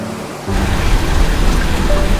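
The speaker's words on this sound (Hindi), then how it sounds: "यहाँ पर तो बहुत तेज बारिश हो रही है।" Heavy rain comes in abruptly, a dense, loud, steady hiss and roar that fills the space after a brief quieter moment, with no voices.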